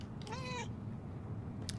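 A single cat's meow from a possessed cat in the video game Murdered, a short clear cry near the start, followed by quiet background rumble and a couple of faint clicks.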